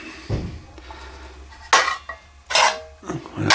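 Metal mess tins and a lid, a US-style army gamelle among canteens, clank and rattle in several sharp bursts of handling, close and fairly loud, with quieter fumbling between.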